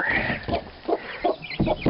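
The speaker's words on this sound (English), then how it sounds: "And there's our chickens." Chickens cluck in short, repeated bursts roughly every half second, close and clear against a low background noise.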